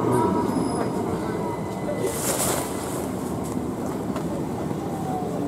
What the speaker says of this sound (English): 377 Electro Star again, Simon.